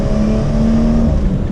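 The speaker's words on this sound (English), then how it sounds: "So this is the B58 engine." A BMW 340i's B58 3-liter inline-six twin-scroll turbo engine revs close and loud, a steady droning engine tone with a sustained pitch that holds briefly, with no talk over it.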